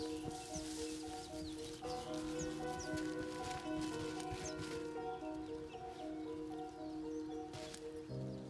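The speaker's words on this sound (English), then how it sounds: "Oh, it's a horse." Faint clip-clopping horse hooves plod along in the survival game Rust, soft irregular steps under sustained tonal music, with light rustling and occasional bird-like chirps in the background.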